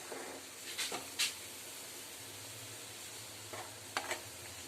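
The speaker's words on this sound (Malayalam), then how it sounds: "ശേഷം ഇത് ഇങ്ങനെ നന്നായിട്ട് ഇളക്കി കൊടുക്കും അരപ്പെല്ലാം നന്നായിട്ട് പിടിക്കാൻ വേണ്ടി ഇളക്കി കൊടുക്കുക" Netholi fish pickle masala is stirred in a pan, with a soft, faint sizzle running throughout and a few brief scraping stirs that stand out now and then.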